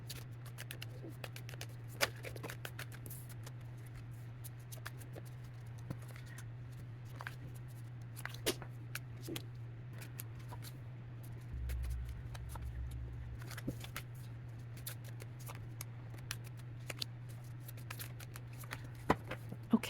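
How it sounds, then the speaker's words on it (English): Tarot cards are shuffled by hand with soft, intermittent riffles and taps over a low steady hum, quiet and close, with no speech. "I'm going to shuffle and pull jumpers for each month of the year."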